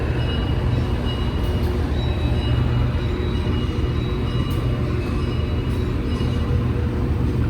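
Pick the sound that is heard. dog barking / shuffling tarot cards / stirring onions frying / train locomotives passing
train locomotives passing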